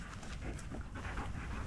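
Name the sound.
dog panting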